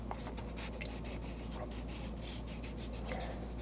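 Paper being lightly scratched and rubbed near a lavalier microphone, a soft, steady rasping rustle with brief scratchy strokes throughout, quiet over a low background hum.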